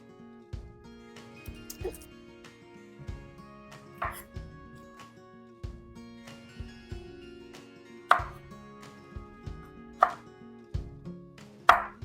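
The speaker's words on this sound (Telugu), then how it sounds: "ఈ వంకాయ కట్ చేసి స్టార్ట్ చేస్తాం" Brinjal being cut on a board for a fish curry: sharp knife chops land irregularly, a few louder strikes standing out, with a low kitchen hum underneath and no talking.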